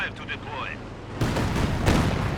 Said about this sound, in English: then a Katyusha barrage very late